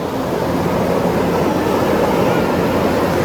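A speed boat runs out at sea off Kovalam beach at sunset, a steady broad rushing drone of motor and water that holds constant and fairly loud, with no voices.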